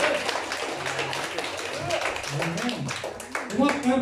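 A church congregation at a sermon claps together in a dense, steady burst of applause while voices talk and call out over it.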